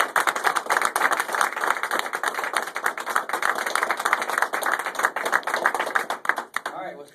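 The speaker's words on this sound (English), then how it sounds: "I'm going to have you give yourself a round of applause to congratulate yourself." Room of people applauding at a military swearing-in ceremony: rapid, crisp hand claps packed close together, loud and sustained for several seconds before tapering off at the end.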